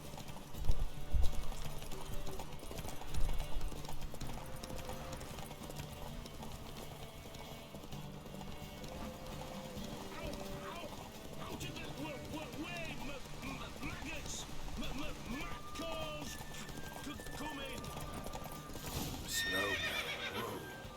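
A horse in The Witcher 3 video game gallops with quick clip-clopping hooves and lets out loud neighs and whinnies. Voices speak at times over the hooves.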